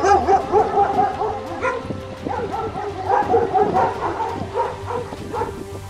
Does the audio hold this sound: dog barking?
yes